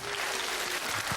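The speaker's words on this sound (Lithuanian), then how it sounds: "Plojimai." Studio audience applause at a televised comedy show, a short steady burst of clapping filling the room at moderate loudness with no voices over it.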